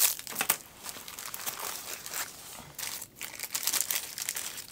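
Plastic protective covering from a VLIKE VL6708 meter unboxing crinkles and rustles in close, continuous handling for several seconds, with no voices.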